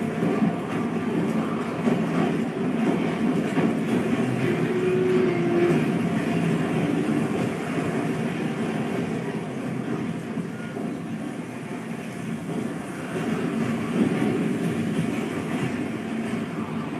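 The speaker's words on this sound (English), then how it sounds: "We see the train stops in front of a work camp and a bunch of old buildings." A train runs on rails with a continuous, dense rumble and rattle that stays loud and steady throughout, and no voices are heard.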